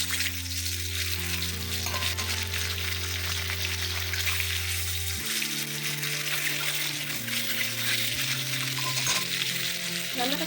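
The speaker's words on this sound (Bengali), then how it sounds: "ডিমটা ভেজে নেব।" An egg rubbed with salt and turmeric fries in a pan in a home kitchen, giving a loud, steady sizzle that runs throughout under background music, with no talk.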